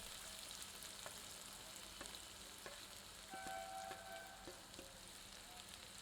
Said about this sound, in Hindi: प्याज सम्मिलित कर इसे सुनहरा भूरा दिखने तक भून लेते हैं।